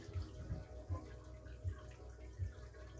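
A cold-water tap runs slowly into a home aquarium, a quiet, steady trickle with soft low gurgling pulses recurring about every second.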